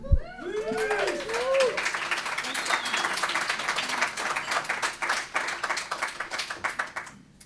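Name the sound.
audience applause welcoming speaker Jules Pieri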